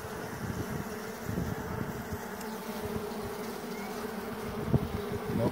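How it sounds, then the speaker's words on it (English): A swarm of bees being scooped into a box during removal gives a dense, continuous buzzing hum close to the microphone, with small thumps and handling noise mixed in. "So we're just gonna keep on scooping the bees."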